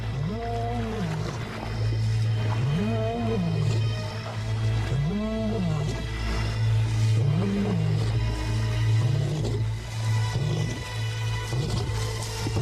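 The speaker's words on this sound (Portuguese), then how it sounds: "Rugir sem parar é arriscado." Lions roaring in a wild setting, a series of deep, rhythmic grunting roars repeating about every two seconds over a steady low rumble, loud and close.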